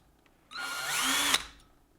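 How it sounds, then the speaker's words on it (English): A single short burst of a power drill enlarging screw holes in a harmonica, whining up in pitch as it bites, then cutting off abruptly, close and loud. "So let's drill these out a little bit. Let's crank up the noise."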